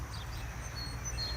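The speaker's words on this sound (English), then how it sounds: "And you can hear the birds singing." Birds sing in trees beside Hoover Reservoir, with faint, high chirps scattered over a steady low rumble of wind or water and no voices.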